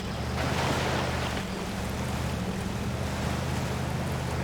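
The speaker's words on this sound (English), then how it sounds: "this water's not exactly the most fun to drive through" A truck ploughs through water in the off-road driving game Mud Runner, a steady loud churning splash over a low engine drone, continuous with no speech.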